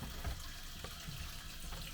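Cold water running steadily from a kitchen tap while dishes are washed, a continuous soft hiss and splash at close range with faint clinks, fairly quiet throughout.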